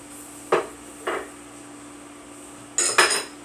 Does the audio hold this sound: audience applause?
no